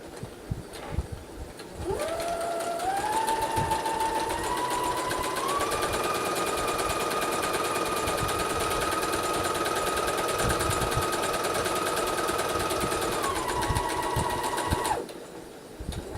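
A sewing machine stitches a French seam in one steady, loud, continuous run of about thirteen seconds, its whir rising in pitch as it speeds up and dropping as it slows before stopping.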